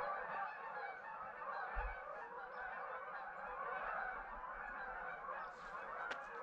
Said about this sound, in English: the geese are going to bed for the night